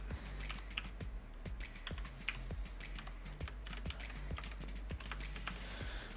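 Typing on a computer keyboard while writing code documentation, a close, steady run of crisp key clicks in uneven bursts with a low hum underneath, no talking.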